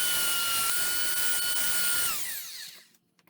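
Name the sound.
Ryobi BE318 vintage belt sander sanding a board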